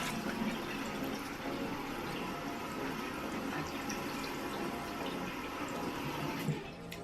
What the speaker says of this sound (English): you just want to wash that off with some warm water